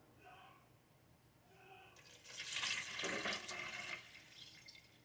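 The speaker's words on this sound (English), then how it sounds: "Now I'm going to add my liquid first. This soup mix calls for 5 cups of water." Water poured from a measuring cup into a Dutch oven for chili, a steady splashing pour building from about two seconds in and lasting to the end, close and moderately loud after a quiet start.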